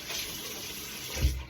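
A tap runs quietly into a sink as lukewarm water wets a microfiber cloth, a soft steady hiss with a brief splash near the end.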